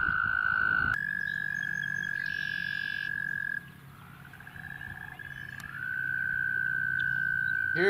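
Toads call in a dense chorus of long, unbroken trills, one caller near and loud, the trill pausing mid-way before another resumes, with softer background calls layered underneath.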